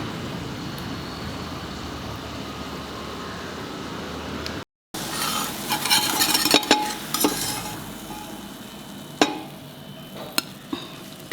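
Bread for French toast sizzles in a non-stick pan, a steady frying hiss that breaks off briefly, then returns with scattered clicks and scrapes of a utensil against the pan.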